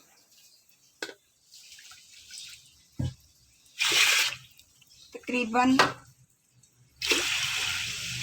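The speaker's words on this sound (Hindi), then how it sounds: "इतना पानी डालना है कि जिसमें दाल गल जाए" Water splashes and pours in short bursts into a pressure cooker holding whole masoor lentils, interspersed with someone speaking and quiet gaps between pours.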